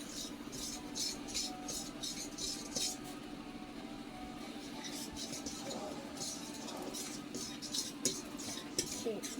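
Pancake batter stirred in a bowl with a utensil, a soft, steady scraping and faint clinking repeating in a quick rhythm, close and fairly quiet under a low background hum.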